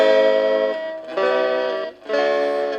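Clean electric guitar through a Santai MA 5 mini amplifier with no effects, three sustained chords rung out in turn, each ringing loud and bright, with short breaks between them.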